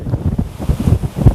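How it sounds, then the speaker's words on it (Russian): Strong gusty wind buffets the microphone outdoors during a bike ride, a steady low roar that swells and dips in rapid surges, close and loud with no other sounds. "Ну вообще прям, я не знаю, сильнейший"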